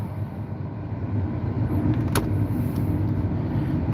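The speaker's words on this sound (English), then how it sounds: "Rev up the engine. Full power." A combine harvester engine revs during corn harvest, a loud, continuous low rumble that builds slightly and holds steady, heard close with no talk.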